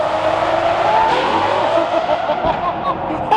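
A car with illegal window tint downshifts and accelerates hard on the road, the engine revving loud and close with a rising roar and a brief tire-squeal edge, ending in a sharp burst.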